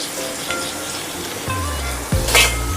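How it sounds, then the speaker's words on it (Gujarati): Okra (bhindi) frying in a pan for a spiced masala dish, a steady close sizzle running throughout, swelling briefly louder near the end. "તો આપણો ભીંડો તળાઈ રહ્યો છે"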